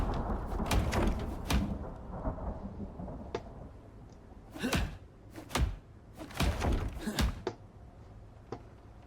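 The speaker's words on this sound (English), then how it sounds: "You can see up there, oh, that's another bolt." Thunderstorm with lightning in the survival game Icarus: sharp, loud thunder cracks and heavy booming claps strike in irregular bursts over a low rumbling background, with no talk.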